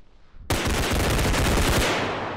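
Realistic video game gunfire: after a quiet half second, a loud sustained burst of rapid automatic shots rattles on without pause to the end.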